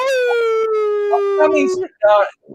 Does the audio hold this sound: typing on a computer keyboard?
no